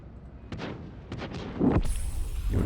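Tank gun shots in World of Tanks, several sharp booming reports with rumbling tails in quick succession, loud and close over continuous battle ambience.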